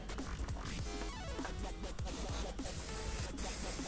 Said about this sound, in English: I can spray it a little bit with red.